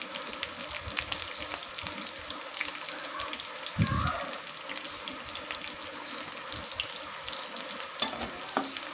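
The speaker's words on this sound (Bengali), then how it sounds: "একটু নেড়েচেড়ে ভেজে নিব।" Chopped onion and green chili sizzle steadily in hot oil, with occasional scraping and stirring clatter from a utensil in the pan throughout.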